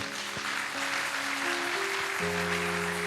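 A church congregation claps and cheers in sustained, dense applause, with steady organ-like musical tones holding underneath throughout.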